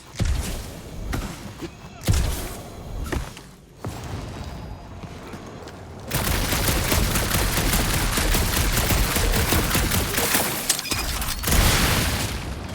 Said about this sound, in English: You do know that aimless shooting isn't gonna scare the monsters away, right?